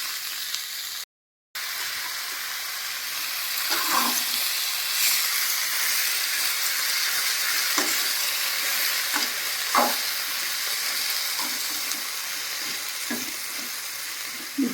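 Fresh mint and coriander fry in a pan for village-style mutton sambar masala, giving a steady close hiss with intermittent spatula scrapes and soft knocks as they are stirred.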